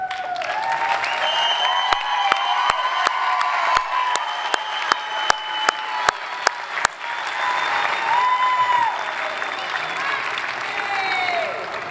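Sustained applause fills a college commencement ceremony as the audience honours graduating students, with some cheering and a row of sharp, evenly spaced claps standing out near the start.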